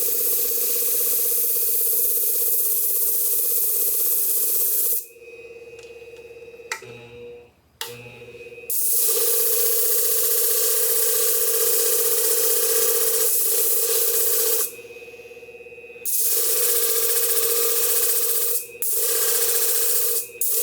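Blade of vintage Vortex shears being sharpened, a steady, loud abrasive grinding hum that runs on, stopping briefly a few times before resuming.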